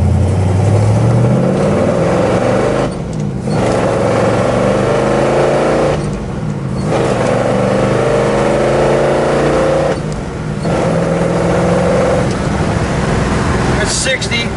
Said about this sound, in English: let's run through a couple gears and see what she's got